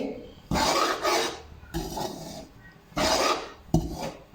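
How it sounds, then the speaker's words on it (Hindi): Spoon scraping and stirring whole wheat flour as it roasts in a pan over a medium flame, heard as a few bursts of dry rasping strokes separated by short pauses, close and fairly loud. "मीडियम फ्लेम पे साथ साथ चम्मच चलाते जाएंगे और गंदम के आटे की बुनाई करेंगे।"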